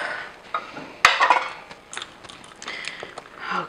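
A spoon stirs vegan cauliflower mac and cheese in a pot, giving a few close, sharp metallic knocks and scrapes at irregular moments over a soft background, with no one talking.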